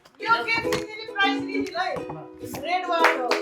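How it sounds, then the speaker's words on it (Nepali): Scattered hand claps during a Christmas party game among friends and family, mixed in with lively children's and adults' voices talking over them. "ताली"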